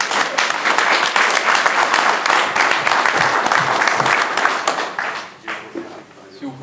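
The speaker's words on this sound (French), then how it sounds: "Pour les applaudir." An audience at a dog competition breaks into loud, dense clapping that holds steady for several seconds, then thins out and fades toward the end.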